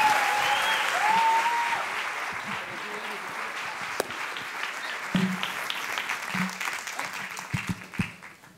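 Loud applause from a live talk-show audience swells at first and then tapers into scattered claps and a few voices as it fades.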